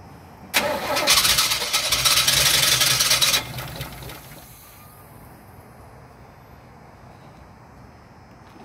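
A 1972 Chevrolet C10 pickup truck engine cranks loudly for about three seconds, catches briefly and then dies away, leaving quiet background.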